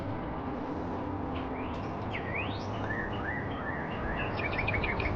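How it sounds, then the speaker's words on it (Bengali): Small birds trapped in a fruit orchard chirping and twittering in short rising and falling calls, fairly faint over a constant hum of insects and background noise. "পাখিগুলো অনেক কিচিমিচি আওয়াজ করতেছে"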